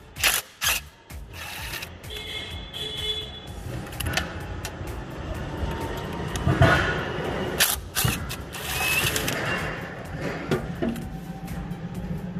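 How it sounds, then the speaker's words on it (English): A hand ratchet clicks while bolts are removed from the hydraulic motor of a double reach truck, with mechanical ratcheting bursts, tool clatter and scraping in a workshop, moderately close and without speech. "Remove these two bolts here and pull out the motors that way."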